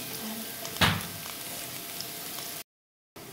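Chopped garlic and cumin seeds fry in hot oil with a steady, moderate sizzle, a brief louder crackle near the start as they hit the pan, then a short silent gap before the hiss resumes.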